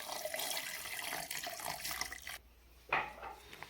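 Water pours into a glass for a bilimbi drink lightly seasoned with salt: a steady splashing stream runs close by, pauses briefly, then resumes with a brighter burst near the end.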